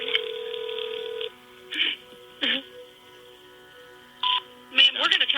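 Touch-tone dialing and call-transfer tones on a phone line as an emergency 911 call is passed to an ambulance service, a steady tone followed by several short bursts of beeps, with breathy sounds between.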